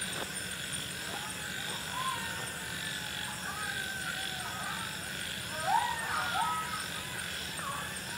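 Night-time jungle animal calls, with scattered cries and chirps carrying over a steady insect-like hiss. The calls sound moderately distant and come at irregular moments.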